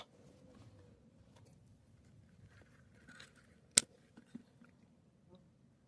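Scissors snip strawberries from the plant in a UK garden, a quiet rustle of leaves and stems leading to one sharp close cut, followed by a few softer snips and handling sounds.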